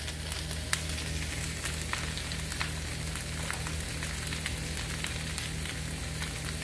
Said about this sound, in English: I'm gonna let this simmer in here